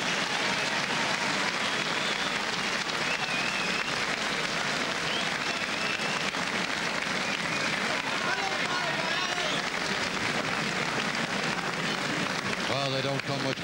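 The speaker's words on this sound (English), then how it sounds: "And the crowd enjoy that great applause." A boxing crowd at a 1996 national senior championship applauds in a continuous, loud roar of clapping and cheering, dense throughout with a commentator talking over it.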